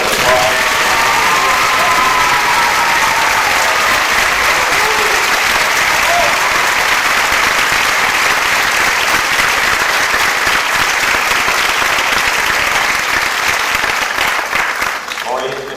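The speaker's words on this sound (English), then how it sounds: "Let's give them all another big round of applause." Big, sustained applause from a pageant audience at the Miss and Little Miss Strassenfest, loud continuous clapping with scattered cheers and children's shouts, tapering slightly at the very end.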